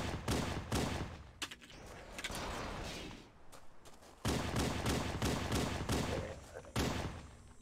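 Rapid bursts of gunfire in the video game Halo: Combat Evolved, loud repeated shots in clustered volleys with a brief lull in the middle before firing resumes, close and dominant.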